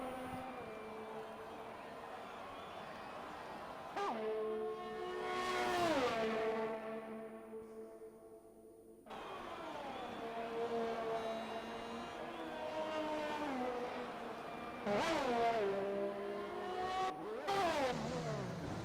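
Race cars in a racing video game run final qualifying laps, engines droning and shifting pitch up and down as they pass, with one car fading away midway before the next loud approaches, alone without talk.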